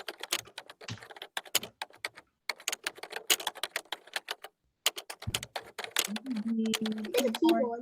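Rapid, uneven clicking of keys on a computer keyboard, close and crisp in irregular bursts with short pauses, and a voice speaking over it near the end.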